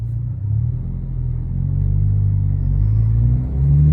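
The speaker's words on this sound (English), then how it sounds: "let me rev it out a little bit more" A Subaru BRZ/GR86 with a 6-speed manual revs in first gear, a loud low engine drone climbing steadily in pitch, easing briefly and then rising again, heard from inside the cabin.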